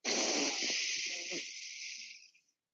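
A long, deep inhale through the nose or mouth during a four-count breathing exercise for a tight, internally rotated shoulder, a steady airy hiss held close for about two seconds before fading out.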